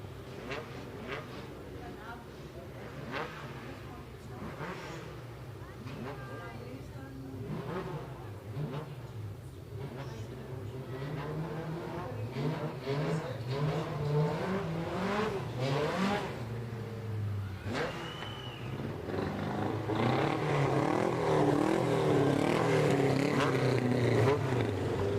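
Border stock cars racing in single file around a track, their engines revving and droning continuously and growing louder toward the end, with a voice talking over the engine noise.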